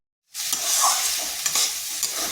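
Boiled kochra (mahua fruit) tipped into a pan of sizzling spices, a sudden burst of loud frying that keeps hissing while a spoon stirs with a few scraping strokes, close and without talk.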